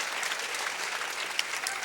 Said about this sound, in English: Crowd giving a good round of applause to the American fighter.